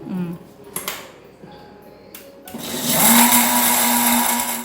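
A mixer grinder grinding a masala paste of cinnamon, cloves and cardamom, with a few clinks and handling knocks before a loud, steady whirring motor starts up and runs to the end, while a voice speaks briefly.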